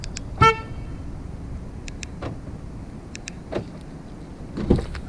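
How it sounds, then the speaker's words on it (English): A 2019 Hyundai Kona SE key fob lock sounds a short car horn toot once near the start, followed by soft lock clicks and another faint chirp near the end, close by. "Lock, unlock, lock, press it again, sounds a horn."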